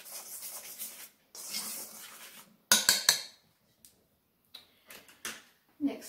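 Flour and cardamom powder are stirred together in a bowl for Swedish cardamom bread, giving a rough scraping and rubbing with sharp clinks of utensil against bowl, in bursts separated by pauses.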